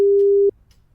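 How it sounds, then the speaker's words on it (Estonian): A single steady electronic telephone tone sounds loud and clear for about half a second, then cuts off, leaving only a faint background hum. "Telefon kutsus kaua."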